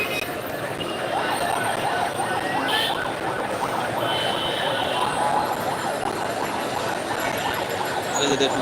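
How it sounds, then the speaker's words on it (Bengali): A fire service truck creeps forward through a street protest, its siren wailing loud and steady throughout over a constant crowd and traffic roar. "এই দেখুন ফায়ার সার্ভিসের গাড়িটা আস্তে আস্তে আগায় আসছে সামনের দিকে আসছে"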